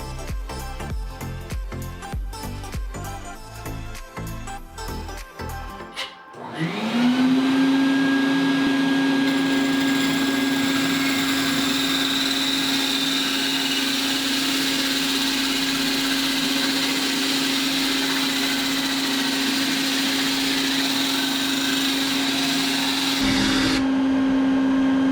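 After a few seconds of clattering, a power tool spins up and cuts a larger drain hole in a vessel sink, a loud steady high-pitched whine holding nearly constant for about twenty seconds before cutting off.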